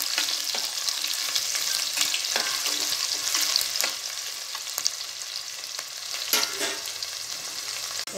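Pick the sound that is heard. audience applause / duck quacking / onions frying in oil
onions frying in oil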